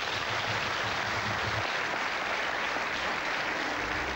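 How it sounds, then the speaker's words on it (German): Studio audience applause on the 1993 German game show Cluedo, a broad continuous hiss of many hands clapping at moderate level, with a faint low voice murmuring underneath early on. "Das ist Ihr Applaus"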